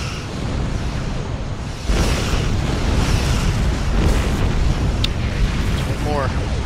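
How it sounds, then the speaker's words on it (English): A photon torpedo explosion in a Star Trek-style starship battle gives a heavy, rumbling boom that surges up partway through. A dense, roaring wash of noise follows and keeps going to the end. "Back on with photon torpedoes."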